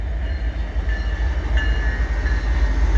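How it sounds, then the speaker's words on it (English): A CP freight train passing nearby on a winter day, a loud steady rumble of rolling cars with faint squeals and a brief horn-like tone, no voices. "Here comes a CP train"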